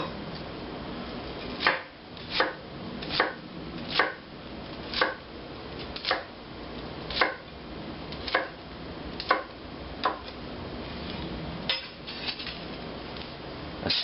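Knife chops a single shallot on a cutting board, about a dozen sharp, evenly spaced knocks over steady kitchen background noise, close and distinct, with no voices.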